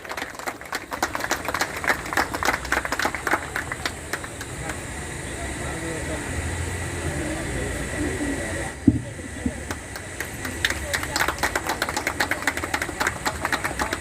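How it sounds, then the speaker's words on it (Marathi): A crowd claps loudly and steadily at an outdoor felicitation ceremony, a dense patter of many hands that dips briefly near the middle before picking up again. "टाळ्यांचा गडगडाट होऊ द्या जरा जोरदार"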